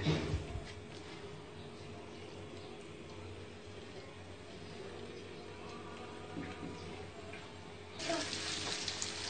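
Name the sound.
chapli kebabs frying in a pan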